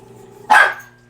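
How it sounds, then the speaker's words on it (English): A single sharp dog bark, close and loud, against a quiet background hum. "he sees a light on the ceiling and he's barking at"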